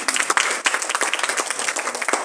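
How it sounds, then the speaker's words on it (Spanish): Audience applause at a book fair in Asunción, brisk clapping from a modest crowd with individual claps audible in an uneven, lively rhythm. "quiero pedirles que la recibamos a Alba con un fuerte aplauso"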